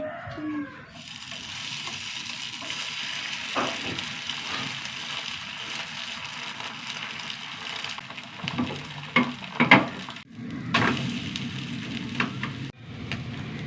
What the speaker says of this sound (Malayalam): ഇനി ഒന്ന് മുട്ട ഒന്ന് വറുത്തെടുക്കട്ടെ